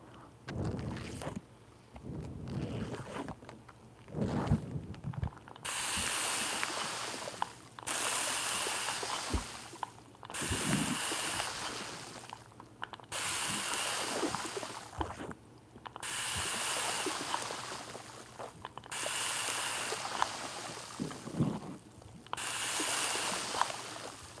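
Water pours and splashes directly onto a wet microphone in a close ASMR setup, coming in loud bursts of several seconds each with quieter gaps between them.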